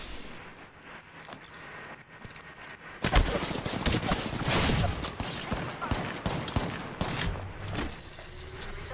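Rapid gunfire from an Apex Legends match erupts suddenly and fills the middle of the clip with dense, loud bursts, then trails off into scattered shots and game ambience.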